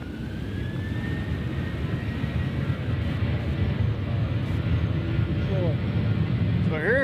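A Southwest Airlines airplane bound for Detroit at Nashville's airport, a steady low jet rumble with a faint engine whine running under it throughout.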